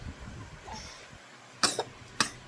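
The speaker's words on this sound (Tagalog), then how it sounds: "Pasensya na po, may ubo ang vlogger." Two sharp coughs, close and fairly loud, the first a quick double burst and the second a single cough after a short pause, following quiet background sound.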